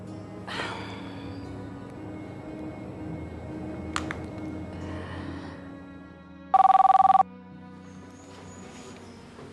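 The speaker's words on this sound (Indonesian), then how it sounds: "Kok HP-nya nggak diangkat?" Mobile phone ringing with no answer, a single brief electronic tone burst of about half a second amid quiet room noise, with soft rustles and breaths around it.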